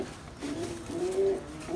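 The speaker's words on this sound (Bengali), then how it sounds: "এটা অরিজিনাল পাকিস্তানি রয়্যাল জেনারেশনের রয়্যাল টেডি" Pakistani Royal Teddy high flyer pigeons coo softly in a low, rolling murmur, with a few soft calls rising over steady background hum.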